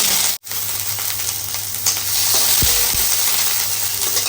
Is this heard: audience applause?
no